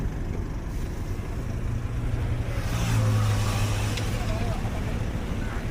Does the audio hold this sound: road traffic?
yes